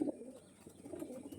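A pair of white pigeons coos softly and close by, giving a low murmuring burst at the start and then a quieter, continuous throaty cooing, with no voices.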